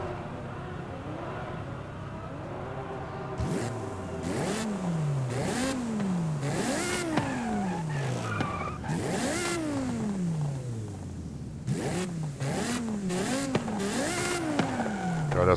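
Car engine in the racing game Forza Horizon 5 revving hard and repeatedly, rising and dropping in pitch through several gear-change sweeps, loud and close, with clattering mechanical noise and no talk.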